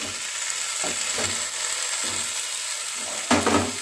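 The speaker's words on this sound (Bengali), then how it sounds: "মূলোগুলো দিয়ে দিচ্ছি, একটু ভালো করে চালতাগুলোকেও দিয়ে দিচ্ছি," Radish and elephant apple frying in a pan, a dense close sizzle with occasional soft stirring scrapes and a louder stir toward the end.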